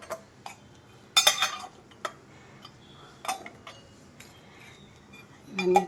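Lids are set onto food boxes being readied for a devotional offering, making a few sharp, close clicks and clinks separated by quiet gaps, with a cluster of louder knocks early on and a muffled clatter at the end.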